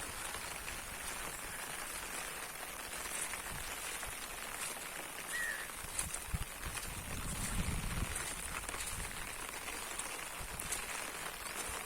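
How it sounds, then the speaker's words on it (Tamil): Steady rain patters across open farm fields, a continuous broadband hiss with occasional louder drops and a low rumble building near the end. "மழை ஓரம் வந்துட்டுருக்கு"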